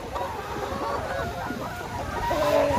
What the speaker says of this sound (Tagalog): Gutom na aking mga manok